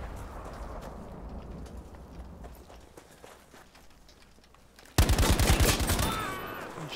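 Battlefield V gunfire: rapid automatic shots and footsteps at moderate loudness, then a sudden loud, fast burst of close machine-gun fire near the end.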